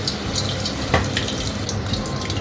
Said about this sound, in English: Let's fry the rolls.